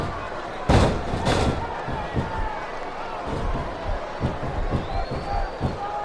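Arena crowd noise from the WWE SmackDown vs. RAW 2007 video game during a Bam Bam Bigelow vs. Big Show wrestling match, a steady roar with two loud slam-like bursts early and scattered thuds, under commentary.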